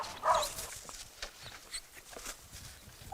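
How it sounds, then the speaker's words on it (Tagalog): Several hungry dogs greet one another on an island, giving short whimpers, yips and soft barks in a busy, close jumble with no talk over them. "Yung ibang aso, nagsasalubungan na agad, mga gutom na gutom."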